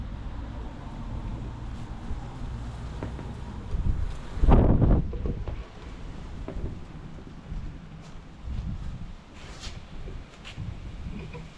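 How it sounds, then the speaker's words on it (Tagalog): Strong wind buffets the microphone in steady low rumbling gusts, with a louder blast partway through and faint rustling throughout. "Malakas yung hangin."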